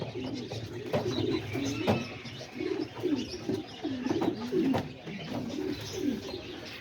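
Homing and roller pigeons coo in a loft, soft rolling calls repeating continuously and overlapping, close by, with faint background noise and no speech.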